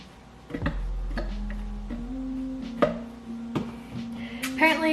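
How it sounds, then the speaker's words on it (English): A knife roughly chops ripe bananas on a board for healthier banana blueberry muffins, giving a series of close, sharp, irregularly spaced taps over a faint background hum. "it just says to roughly chop the bananas"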